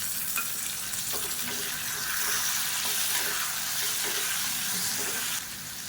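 Tomatoes and roasted gram sauté in a pan for chutney, giving a steady, close sizzle and hiss that runs evenly throughout with no talking.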